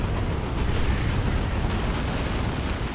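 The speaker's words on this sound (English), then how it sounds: "Well-timed stick bombs." Ork stick bombs going off in Warhammer 40,000: Dawn of War 2, a dense, continuous rumble of explosions with bursts and pops layered together for about three seconds, loud and close with no voices.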